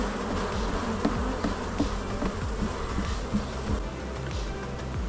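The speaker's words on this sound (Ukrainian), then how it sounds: "для повного щастя потрібно, щоб бджоли тут менше було" A dense, continuous buzz of many honeybees swarming close by a hive, steady and humming with faint clicks and bumps mixed in.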